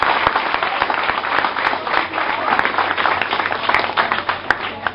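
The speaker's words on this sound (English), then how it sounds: "Alright guys, give her a round of applause again." Sustained applause from a room of school students, steady and dense for the whole stretch, with a few sharper individual claps and some faint voices mixed into the crowd noise.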